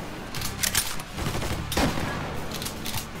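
Gunfire in the PC game Mafia 3, played on hard difficulty: rapid bursts of shots crackle over a dense, noisy background and swell twice in the middle before fading into a lingering rumble.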